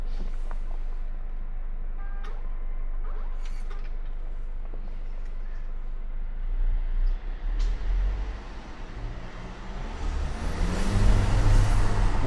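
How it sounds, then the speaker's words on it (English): Geely Starray 2025 SUV, 238 HP 4WD, driving at night: a steady low engine and road drone from the cabin, rising and swelling louder toward the end as it accelerates, with a faint turbo whine over the rumble. "you can hear the turbo very nicely"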